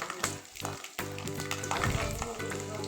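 Peanuts fry in hot oil for avalakki, a steady close sizzle with brief scraping stirs and a short pause near the start, then continuous bubbling crackle.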